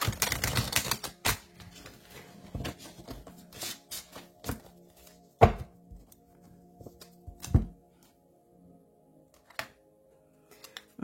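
Tarot cards being reshuffled by hand in a quiet room, giving a burst of rapid flicking and riffling at the start, then scattered sharp taps and slaps of cards as they are set down.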